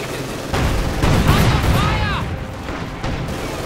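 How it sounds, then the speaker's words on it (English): Field artillery barrage in Company of Heroes 2, a run of booming impacts and rumbling blasts rolling through the battle, fairly loud and layered, with a commentator's voice faintly mixed in. "Go field barrage."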